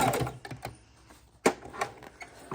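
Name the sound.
sewing machine stitching fabric and paper scraps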